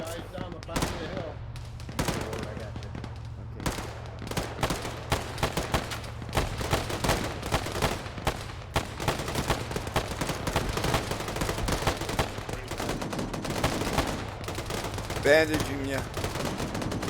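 Rapid bursts of video game gunfire and machine-gun fire crackle through a battle, steady and dense for the whole stretch, while players talk over the shooting.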